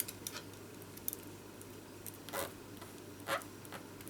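A paper card for a faux metal pen design being folded and pressed flat, giving soft scattered rustles and a couple of brief louder creasing swipes, close up with no talking.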